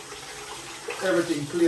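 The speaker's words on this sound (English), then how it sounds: "I run the water constantly through it" Tap water runs steadily over food being rinsed in a home kitchen sink, a continuous splashing flow that swells louder partway through, with a person talking over it.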